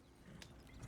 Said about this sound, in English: My 2-horse drive wagon.